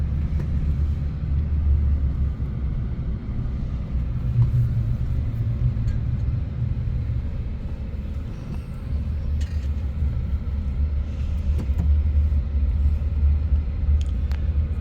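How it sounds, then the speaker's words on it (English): A car cruises along a road past new housing, its engine and tire rumble a steady, low drone close by that swells slightly now and then, with no voices. "I'm just kind of driving around here."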